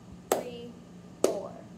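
Two sharp hand claps spaced about a second apart, close and crisp with brief room decay, demonstrating a steady quarter-note beat.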